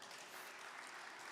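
Audience applause at an evening storytelling, music and comedy show, a steady dense wash of many hands clapping with no voices over it.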